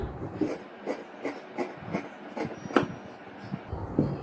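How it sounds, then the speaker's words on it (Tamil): Scissors cut straight through blouse lining fabric in a steady run of crisp, close snips about twice a second, with no talking over them. "இதை ஸ்ட்ரைட்டாக கட் பண்ணி எடுத்துக்கிறேன்"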